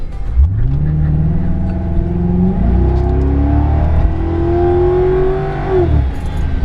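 A 2006 Ford Crown Victoria P71 with a 4.6 liter V8 accelerates hard, its engine note climbing through the gears with rising pitch, loud and close.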